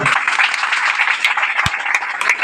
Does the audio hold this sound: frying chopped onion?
no